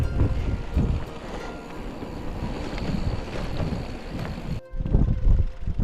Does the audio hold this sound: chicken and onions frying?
no